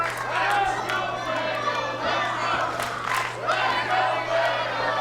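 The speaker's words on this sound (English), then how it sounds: "The crowd cheering for Fuego del Sol." Wrestling crowd cheering for Fuego del Sol, a steady roar of many voices with swelling shouts, heard continuously at an arena with a constant electrical hum underneath.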